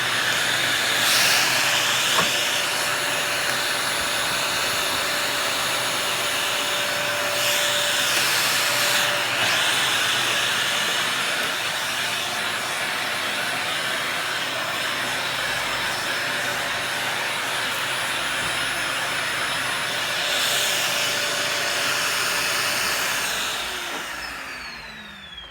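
A Dyson DC40 vacuum cleaner runs with a small nozzle fitted, giving a loud, steady high-pitched suction roar that holds for the whole stretch before winding down slightly at the end, with no talking.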